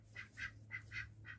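A duck on a homestead quacks five times in quick, evenly spaced bursts, fairly faint, with a low steady hum underneath and no talking.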